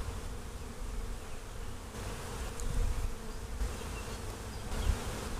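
Honeybees buzz around an open long hive of eighteen frames during an inspection, a steady dense hum with a few louder passes close by and no talk.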